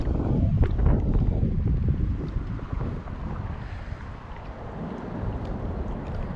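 Wind blowing across Lake Merced during shoreline fishing, a steady broadband rush buffeting the microphone with stronger gusts at the start and near the end, no voices.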